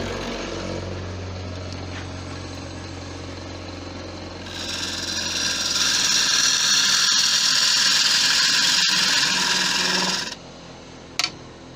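A woodturning tool is sharpened on a grinder. A low motor hum starts things off, then a loud bright grinding rasp takes over for several seconds before cutting off, followed by a sharp brief clink.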